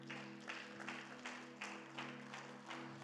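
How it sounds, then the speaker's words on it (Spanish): A church congregation applauds faintly in rhythmic waves of clapping, the bursts about half a second apart over a steady low hum. "dándole un fuerte aplauso al Señor."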